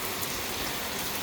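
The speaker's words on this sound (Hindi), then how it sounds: "ये देखो जी बारिश का मौसम" Steady rain falls in a dense, even hiss of droplets striking surfaces, close and continuous, with no voices over it.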